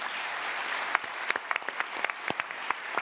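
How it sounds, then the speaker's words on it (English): Applause from a conference audience for the panel at the Raw Materials Summit 2024 on responsible sourcing for the automotive sector, a fairly thin scattering of individual claps with distinct sharp hand strikes standing out over a soft background clatter. "Can we have a very big round of applause"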